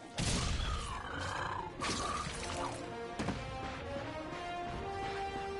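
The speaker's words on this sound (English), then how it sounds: "Look at him smashing crates." Wooden crates smash and shatter in the Ratchet & Clank video game, a string of loud crashing breaks with splintering debris and rattling pickups, one after another with no talk over them.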